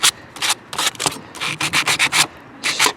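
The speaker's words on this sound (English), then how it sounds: "I'm going to take a little bit of sandpaper," Sandpaper scrubbing old gasket residue off a Kawasaki 9HP carburetor from a John Deere GX75, heard as a series of close, rhythmic rasping strokes separated by brief pauses, with no talking.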